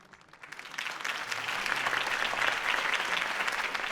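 Crowd applause and cheering in a Batman Telltale video game scene, a political campaign rally for Harvey Dent, starting softly and swelling into steady, sustained clapping from a large audience.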